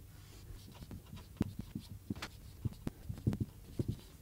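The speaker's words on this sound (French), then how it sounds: "Je vous les écris." Handwriting words, a pen scratching and tapping across a surface in short irregular strokes, close and fairly quiet, with no voice over it.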